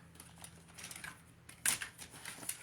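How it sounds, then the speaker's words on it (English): Scissors cutting patterned paper for a scrapbook album: faint, close crisp snips and rustles of paper, irregular and quiet, with one sharper snip standing out partway through. "Now, I use scissors"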